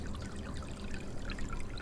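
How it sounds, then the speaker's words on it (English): Tidal water flows out in a continuous close rushing and gurgling stream, steady and fairly loud with no talk. "Can you hear that water flowing? That's the tide still going out."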